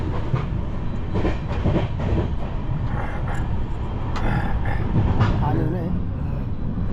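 The Deccan Queen Express 12124 rolls along the tracks with a continuous rumbling clatter heard from inside the coach, rhythmic wheel clicks running beneath faint voices.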